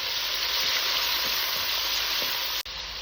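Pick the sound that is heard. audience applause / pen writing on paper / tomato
tomato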